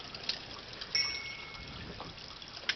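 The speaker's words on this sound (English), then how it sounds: "Nicely dripping." Engine oil drains and drips from a car during an oil change, a faint trickle with a few soft, scattered drip ticks against a quiet background.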